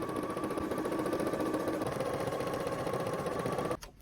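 A sewing machine runs a zigzag stitch over shirring elastic, a close, steady and fast mechanical whirr with a rapid needle rhythm for nearly four seconds before stopping abruptly.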